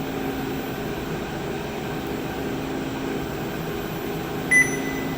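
A Malagutti pizza oven runs with its rotating deck turning, a steady mechanical hum and drone with a brief high electronic beep near the end.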